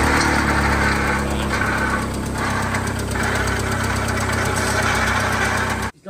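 A Volkswagen Lupo engine runs at idle with a rough, rattling knock from a broken clutch release bearing throughout, loud and close, cutting off near the end.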